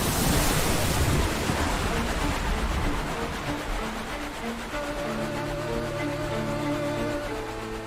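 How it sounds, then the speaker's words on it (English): A waterbending water spout in an Avatar animated series, a broad rushing roar of surging water that dominates early and then eases into a lower wash as a tonal musical score rises underneath. "he instinctually bent himself to safety with a master-level water spout"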